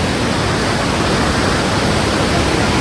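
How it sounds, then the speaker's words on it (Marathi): Floodwater rushes over a dam in the Konkan countryside at night, a loud, dense, unbroken roar that fills the whole stretch at close range. "कसा आवाज येतो पाण्याचा धाकधक धाकधक"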